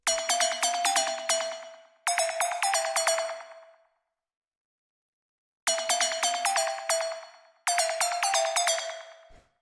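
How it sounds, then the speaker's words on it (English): Dark, uneasy synth pluck line from a raw techno track: two loud bursts of rapid, bright plucked notes with ringing decays, a gap of silence, then two more bursts, played alone. "Next thing we have here is this pluck,"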